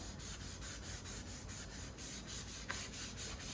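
White foil hearts on a handmade Valentine's card rubbed by hand to brighten them, a steady, close, rhythmic scratchy rubbing that repeats in quick strokes for a few seconds with no talking.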